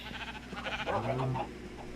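A rare pink sheep bleats in the Minecraft video game, a single drawn-out wavering bleat standing out over a steady game background, fairly close.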